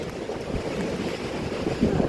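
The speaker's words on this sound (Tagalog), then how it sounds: "Grabe ang lakas ng hangin guys." Strong wind roars and buffets against the microphone in a constant low rumble, with gusts swelling toward the end.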